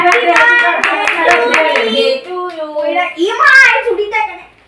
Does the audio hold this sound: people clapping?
yes